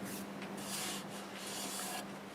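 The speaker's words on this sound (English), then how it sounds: "Alright, time to do some sanding." Steady soft rubbing of sandpaper on a black walnut bowl spinning in reverse on a wood lathe at about 300 RPM, 120 grit, faint and continuous with slight rhythmic swells and no talk.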